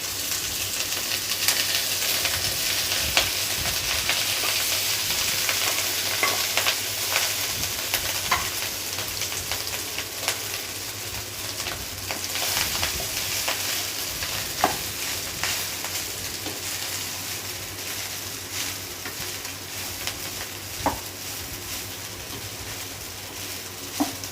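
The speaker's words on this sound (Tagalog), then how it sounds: "kumuha po tayo ng ibang kawali para i-fry na po natin yung rice" Rice fries in a separate wok-style pan, giving a steady close sizzle with scattered crackles and light stirring scrapes, loud and continuous with no voices.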